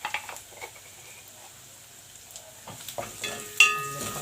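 Onion and garlic frying in a pan, a faint close sizzle with scattered soft crackles and a brief clink of a spoon near the end, no talking.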